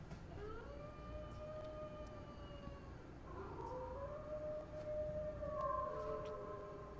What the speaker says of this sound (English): Let's just see what happens if we howl from this part, if it triggers anything.